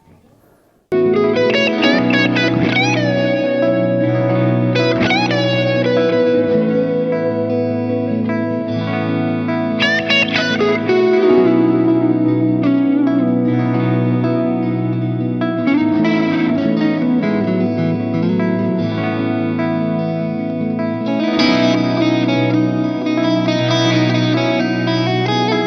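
A progression of rich, extended chords played on a heavily effected instrument with chorus and reverb, sustained and full, changing every few seconds.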